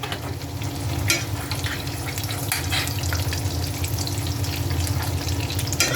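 Breaded pork chops fry in a hot pan, a constant close crackling sizzle with scattered sharper pops and spits running throughout.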